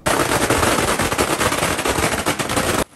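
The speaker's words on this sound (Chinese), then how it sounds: "竞选总部前，鞭炮声此起彼落" Firecrackers explode outside an election campaign headquarters in a loud, dense, continuous string of rapid bangs that cut off abruptly near the end.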